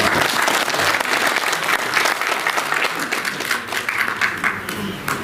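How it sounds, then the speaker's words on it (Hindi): Steady, dense applause from an audience at a Hindi poetry recital held in a hospital hall in Delhi, filling the whole stretch at an even loudness with no other sound standing out. "अगर आपको अच्छी लगे तो ताली यहाँ बजा सकते हैं।"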